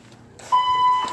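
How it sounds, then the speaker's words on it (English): A fire alarm sounds in an apartment building, a loud sustained electronic tone that starts abruptly and holds steady, with faint background noise before it. "Fire alarm. It's always late, too."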